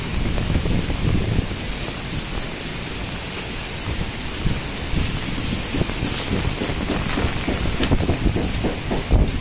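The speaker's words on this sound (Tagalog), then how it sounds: "Abutan ng hangin, malakas." Steady roaring gusts of strong typhoon wind with heavy rain hammering down at sea, a constant dense wash of noise throughout, no voices.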